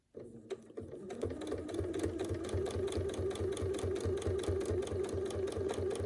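A sewing machine stitching during free-motion quilting starts up after a short pause and runs at a fast, even mechanical rhythm, close and steady, with no talk.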